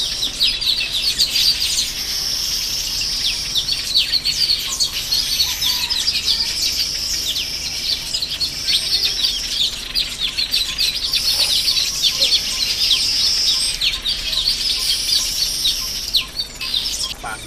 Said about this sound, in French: et les bruits des oiseaux.